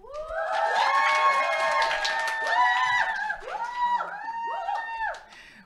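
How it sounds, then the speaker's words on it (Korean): A live audience at a product lecture applauds and cheers with wavering voices and shouts riding over the clapping, loud and sustained before trailing off near the end. "오랜만에 듣는 박수 소리에서 힘이 나네요."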